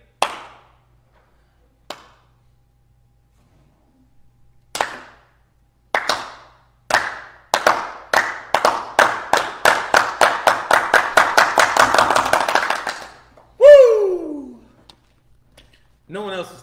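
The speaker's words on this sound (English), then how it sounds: "See if we can start one of those claps." A group's clapping starts with a few sparse, isolated claps, then speeds into a rapid, rhythmic run of claps before it stops, followed by a loud whooping shout and a few faint sounds.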